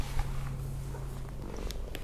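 A cat purrs steadily and close by, its low rumble continuous throughout, with a few brief higher cries mixed in as it waits for food indoors.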